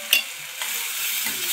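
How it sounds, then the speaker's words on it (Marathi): Tomato soup ingredients fry in a pan, a soft steady sizzle with a few light stirring scrapes, close and unaccompanied by speech. "चांगलं फ्राय करून घ्यायचं आणि थोडी साखर घ्यायची."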